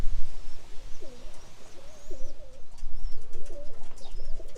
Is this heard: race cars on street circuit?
no